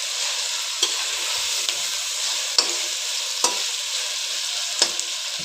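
Chopped onion fries in oil for pav bhaji, a continuous close sizzle broken by several sharp scrapes and knocks of the spoon as it is stirred, with no voices.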